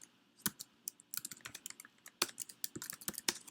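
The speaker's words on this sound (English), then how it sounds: "Sorry, typing in the query here." Keys clacking on a computer keyboard as a query is typed, an irregular run of quiet, close taps with a few louder strokes.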